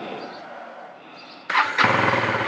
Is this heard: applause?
no